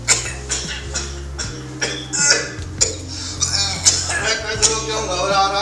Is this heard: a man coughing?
yes